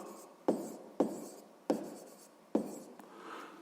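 A pen writes numbers during a sixth-grade math exercise: four crisp strokes tap onto paper at roughly even intervals, each with a short scratchy tail, close up in a quiet room.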